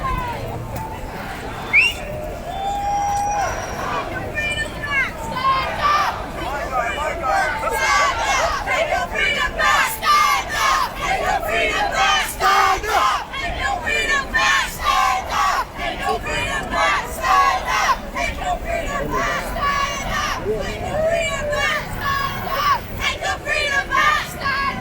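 A protest crowd fills a blocked road on Park Lane, London, a dense roar of many voices with rhythmic chanting and shouts rising and falling, close and loud throughout.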